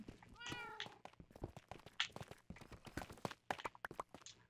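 A cat in a video game lets out a single clear meow near the start, followed by a rapid run of quiet footstep-like taps and clicks with no talk.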